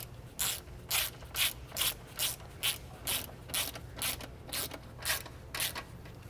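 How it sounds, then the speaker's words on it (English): A ratchet tightens subframe bolts on a BMW E90 M3, about a dozen evenly spaced bursts of rapid clicking over a low steady hum. "as I'm tightening or threading in those forward bolts"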